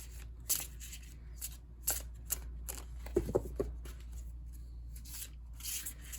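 A tarot card deck is being shuffled by hand, giving soft papery riffles and rubs in irregular bursts, close and quiet, with no talk.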